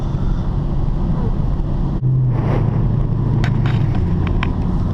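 Car driving at night onto a wet turnpike, a loud steady engine and road roar with tyre hiss on wet pavement and wind buffeting, no voices.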